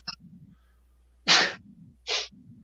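Two sharp sneezes, close and fairly loud, about a second apart, with quiet breathing and soft background noise between them.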